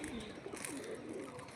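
Pigeons kept loose in a loft coo softly in low, repeated throaty calls, faint and close, with no talking.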